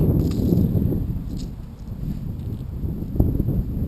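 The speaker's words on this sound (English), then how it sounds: "Man, and the wind's blowing." Wind gusting across a lake during a bass fishing outing, a steady low rumble of buffeting air against the microphone with a few faint knocks, close and continuous, with no voices.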